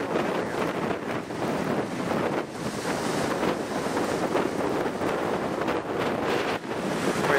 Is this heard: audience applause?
no